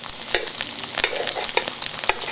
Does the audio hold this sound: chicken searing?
yes